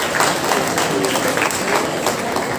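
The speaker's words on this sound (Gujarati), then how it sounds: "એમને ખૂબ તાળીઓ સાથે વધાવીએ" A hall audience at a Brahmin community honours ceremony in Navi Mumbai gives a guest a warm, sustained round of applause, many hands clapping together loudly and evenly throughout.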